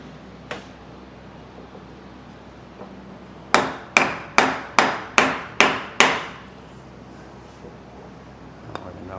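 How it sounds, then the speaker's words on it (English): A hammer strikes a block of wood to bend a metal bracket on a Suzuki LTR 450 quad, seven sharp, evenly spaced taps ringing out close by in a steady rhythm, with a few stray knocks before and after. "Let's see if I can take a block of wood and a hammer and"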